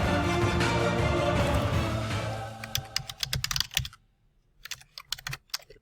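Keys clack on a computer keyboard as a password is typed, a quick run of taps after a stretch of louder background noise, then a few more keystrokes after a brief pause.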